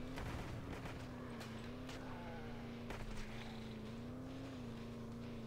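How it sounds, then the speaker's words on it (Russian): A car engine revs steadily in the Earn to Die Rogue video game, holding a constant drone with small pitch swells and a couple of sharp impact cracks along the way, close and loud, with no talk. "Да газую я, ребят, газую."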